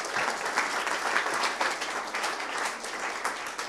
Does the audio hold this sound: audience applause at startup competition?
yes